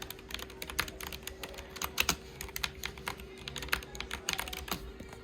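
Typing on a HyperX Pro TKL tenkeyless keyboard, a steady run of crisp, close keystrokes clicking in quick irregular bursts over a faint steady hum.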